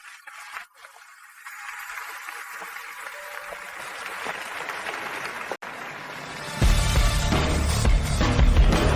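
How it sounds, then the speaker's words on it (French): Audience applause starts faintly, swells gradually, then jumps to a louder, fuller burst of clapping in the last few seconds, with a brief sharp click partway through. "applaudissez, s'il vous plaît"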